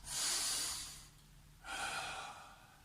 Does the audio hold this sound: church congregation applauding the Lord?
no